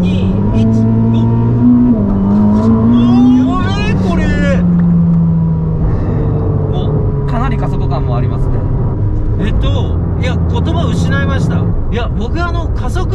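A Ferrari SF90 Stradale hybrid supercar accelerates hard, its engine note climbing steadily in pitch for several seconds before levelling into a sustained roar, with people talking over it inside the cabin.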